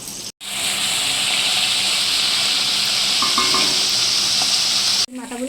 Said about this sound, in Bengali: ভাজা হয়ে যাচ্ছে এবার আমি তুলে নিলাম